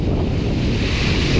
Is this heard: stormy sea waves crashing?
yes